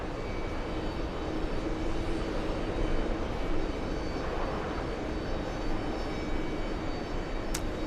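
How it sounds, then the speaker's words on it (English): A Boeing C-17 military transport jet arriving at an airport, a steady broadband engine roar that holds constant throughout without talk. "There's another C-17 coming in, Teddy 68."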